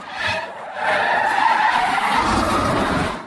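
A car in a Breaking Bad scene skids out of control, tires squealing and screeching loudly for about two and a half seconds in a sustained harsh slide.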